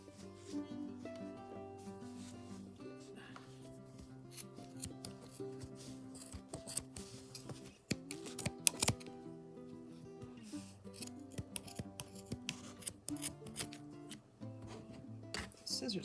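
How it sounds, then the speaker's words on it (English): Dull scissors snip excess sewing thread during hand sewing, giving a few faint, scattered cuts beneath steady background music. "Scissors are really dull."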